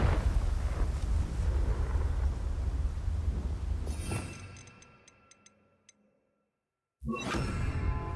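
A Confringo spell blast in Hogwarts Legacy erupts as a loud, roaring explosive rush that slowly fades out, followed by a short silence and then a sudden renewed burst of noise.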